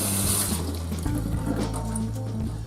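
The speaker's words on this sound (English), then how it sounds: "It's always best to rinse off any meats that you are working with" Tap water runs steadily into a sink as raw tilapia fillets are rinsed, giving a continuous close splashing rush with slight changes as the fillets move under the stream.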